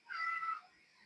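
A house cat meows once, a short rising-and-falling call lasting about half a second, fairly faint and close, then quiet room tone.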